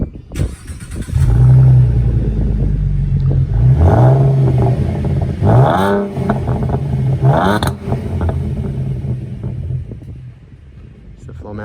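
A 2017 Ford Mustang with a V6 engine and Flowmaster Outlaw exhaust revving loudly up close, a deep rumbling idle rising into several throttle blips before settling back down.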